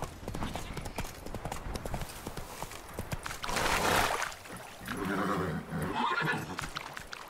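Horse in The Witcher 3 video game galloping with rhythmic clip-clop hoofbeats and neighing loudly, set amid game ambience.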